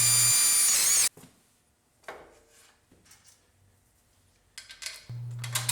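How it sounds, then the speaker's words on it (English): A power drill bores holes through a jointer table extension being fitted to a 6 inch jointer. Two loud, steady whining bursts come at the start and the end, with quiet clamp and handling knocks between them. "Once aligned, the holes can be drilled in the table."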